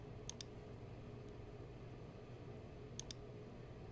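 Two quick pairs of sharp mouse clicks on a Save Changes button in billing software, one early and one about three seconds later, each a crisp double tick over a steady low room hum.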